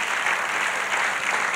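A conference audience at an education and training event claps in a short, steady burst of applause lasting under two seconds, moderately loud and with no talk over it.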